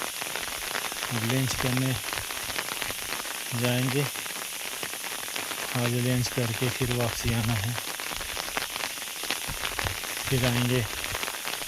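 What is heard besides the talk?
light rain falling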